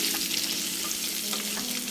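Onions and ginger fry in a pan with a dense, continuous sizzle and a faint crackle running throughout, close and fairly loud.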